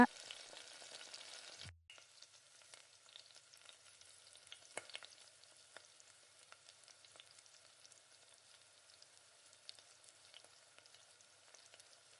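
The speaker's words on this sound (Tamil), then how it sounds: "இந்த காயெல்லாம் சேர்த்து நல்லா வதக்கி விடுங்க." Chopped vegetables, brinjal and carrot among them, sautéing with tomatoes in a pan, a faint crackling sizzle with scattered pops after a brief louder opening burst, no talk.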